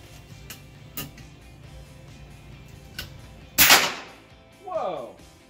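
An FX Dreamline air rifle with a power plenum fires a supersonic lead-free .25 caliber pellet. Faint mechanical clicks come first, then one sharp, loud crack that fades quickly, followed by a brief exclaiming voice.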